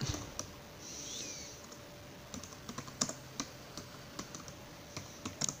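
Keys tapped on a computer keyboard while a topic is typed into a Twitter post, in scattered bursts of light clicks over a quiet room hum.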